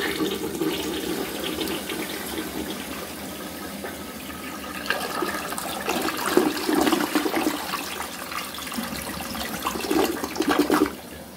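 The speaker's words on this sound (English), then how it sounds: "So anyway, let's give it a flush." A Standard Cadet toilet flushes with a steady rushing swirl of water that builds toward the end, close and loud, with the tank refilling underneath and no talking.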